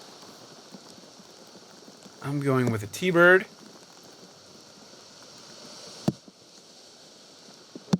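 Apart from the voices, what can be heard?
heavy rain on disc golf course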